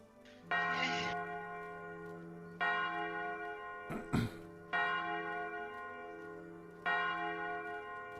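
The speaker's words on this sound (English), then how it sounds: "I already rang the bells up at High Command." Church-style bells rung at High Command during a Royal Navy roleplay game, sounding in four long, resonant strikes spaced about two seconds apart, each ringing out and decaying, with a brief clatter between the second and third.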